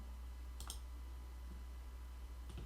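A computer mouse clicking twice, sharp and brief, against a faint steady electrical hum, with no talking.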